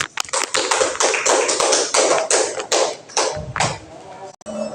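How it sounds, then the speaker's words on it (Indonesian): A seminar audience gives the presenters a short burst of applause, dense close clapping that thins out and stops after about four seconds. "Untuk itu mungkin saya minta untuk beri aplaus kepada pemateri."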